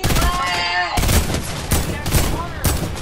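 Heavy assault rifle fire in Fortnite, several loud separate volleys in quick succession, with voices talking between and over the shots.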